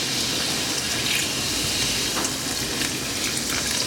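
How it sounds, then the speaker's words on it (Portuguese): Cider bubbling and boiling in a pan with sausage, as in a Christmas dinner dish, makes a dense, continuous hiss and fizz that stays up close and steady with no talk. "a cidra vai fervendo bem"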